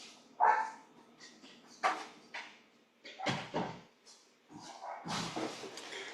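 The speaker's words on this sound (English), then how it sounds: "I'm going to close the door for a minute because my dog is barking." A dog barks in short, separated bursts from another room, muffled and fairly faint, with a few scattered knocks and movement sounds between the barks.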